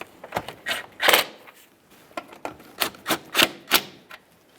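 A wrench snugs 10mm nuts onto a headlight on a 2013-2020 Ford Fusion, making short bursts of sharp ratchet clicks in an irregular rhythm, close and fairly loud with nothing else around.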